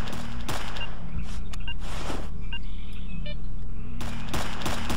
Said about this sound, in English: Oh, he's shooting, eh?